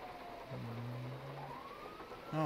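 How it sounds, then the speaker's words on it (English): Rain falling in GTA 5, a soft, steady hiss that stays faint throughout, with passing tonal whines from traffic layered over it and no talking. "Oh, it's raining."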